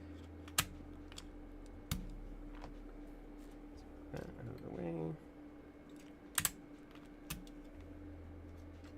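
Sparse clicks and clacks of typing on a Keychron V1 Ultra mechanical keyboard fitted with new switches, a handful of separate key presses at a relaxed pace, close and fairly quiet, with a person talking in between.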